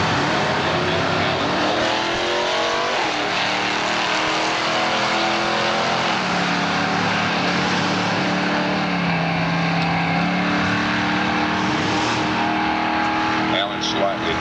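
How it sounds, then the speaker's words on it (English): Loud drag racing cars roar continuously launching down the strip, rising in pitch as they accelerate, with a voice talking over the noise throughout. "Here's the late Tom Etheridge's car with his son Tommy Newton driving in the right lane"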